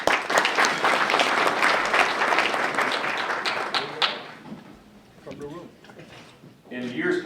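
Conference audience applauding loudly and steadily for about four seconds, then the clapping thins out and fades as voices and room noise take over, with a brief swell of sound near the end.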